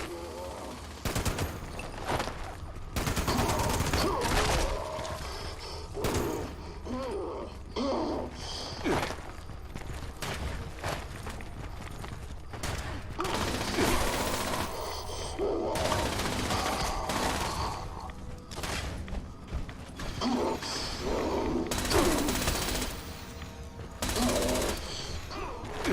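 In Fallout 76, a two-shot Gatling laser fires in long sustained bursts, with rapid crackling volleys broken by short pauses over about half a minute. Footsteps and faint game voices sit in the gaps.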